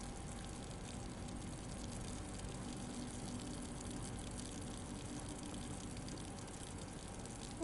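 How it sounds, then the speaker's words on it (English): Steady rushing tap water pours from a kitchen faucet in the video game Blue Prince, a continuous broadband gush holding even and close for the whole stretch with no pauses. "I can turn the faucet on now"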